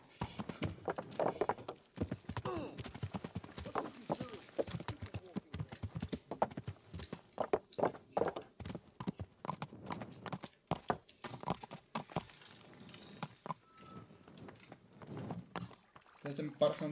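Horse hooves clip-clop in the video game Kingdom Come: Deliverance, an uneven run of hoof taps under frequent talk.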